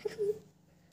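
A chicken in the Minecraft video game gives one short, high, squeaky cluck near the start, followed by quiet background.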